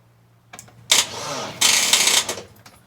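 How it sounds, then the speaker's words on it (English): The starter motor of an MGB GT cranks the engine in two short bursts of whirring, a near and loud churn that stops without the engine catching. "when we try to turn the engine"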